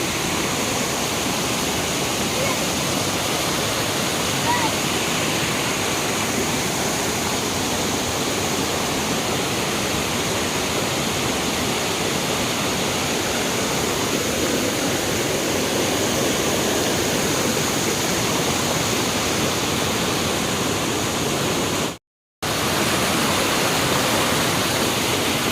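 Gupteswar waterfall near Gudari in Rayagada roars steadily, a dense, unbroken rush of falling water close by for the whole stretch, briefly dropping out near the end.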